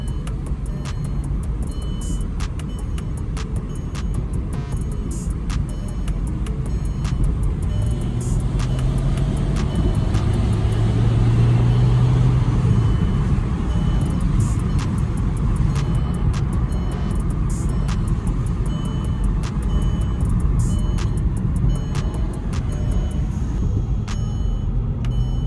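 A 2007 Mercedes ML350 SUV being driven on Indian roads, heard as a steady low cabin rumble of engine and tyre noise with scattered small clicks and knocks, continuous and fairly loud with no speech.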